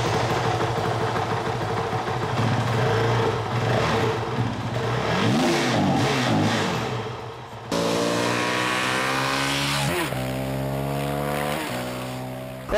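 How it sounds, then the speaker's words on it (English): A Honda 450L dual sport motorcycle with a small-displacement engine idles loudly up close, then is revved several times, the pitch sweeping up and down in repeated throttle blips with no talking. "let's give this thing a rev."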